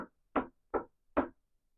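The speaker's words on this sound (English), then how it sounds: "They went to that blue house and knocked on the door" Three firm knocks, evenly spaced, sharp and fairly close, with silence between them.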